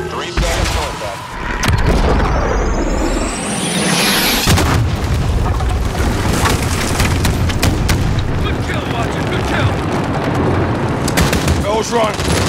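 Artillery strike in Modern Warfare's Into The Furnace mission: a rising whistle, then heavy booming explosions and sustained rumbling barrage with crackling gunfire, loud and close throughout.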